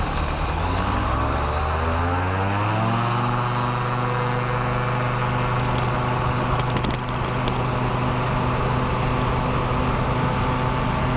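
A microlight aircraft over Zambia powers up for takeoff, its engine note rising in pitch over the first few seconds and then holding a loud, steady drone.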